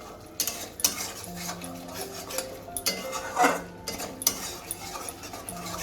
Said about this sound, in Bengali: আমি মশলাটাকে আবারও একটু ভালো করে কষিয়ে নেব।